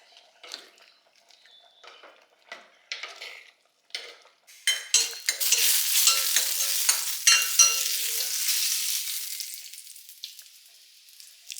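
Okra goes into a nearly cooked masala curry, setting off a loud sizzle that swells and holds for several seconds, with scattered utensil clinks and stirring scrapes against the pan before and during, no voices.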